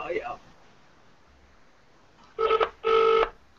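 Two bursts of a telephone ringing tone play over a loudspeaker during a gaming chat call, sharp and loud after a short moment of near-silence, with a brief bit of talk at the start.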